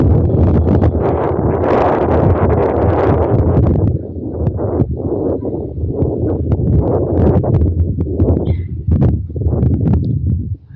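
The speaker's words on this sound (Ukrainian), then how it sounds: "На вулиці чути такий вітер, холодно так." Strong, cold wind buffets the microphone outdoors in a continuous loud rush with gusty surges, no voices heard.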